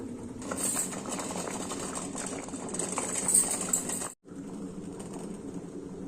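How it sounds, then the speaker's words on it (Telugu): Water heating to a boil in a pot set up for steaming rice-flour and fenugreek-leaf dumplings, a steady bubbling, hissing wash with a brief cutout near the end; no talk over it. "ఇట్లా ఆవిరికి పెట్టుకోవాలండి నీళ్ళు కాగుతున్నాయి కదా"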